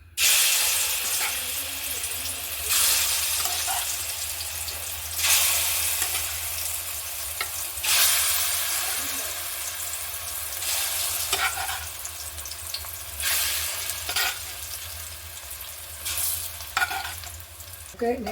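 Chopped banana pieces are added a little at a time to a hot pan and fried for kalkanda pazha payasam. The sizzle stays loud and constant, with recurring stirring and scraping strokes close by.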